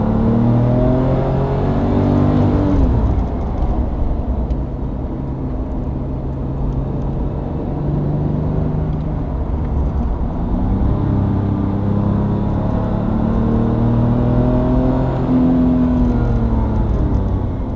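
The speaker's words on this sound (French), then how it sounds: "Et là tu accélères progressivement" An Audi R8 on a racing circuit during a driving course accelerates steadily out of a corner, its engine note climbing in a continuous loud, close rumble through shifts, with no talk over it.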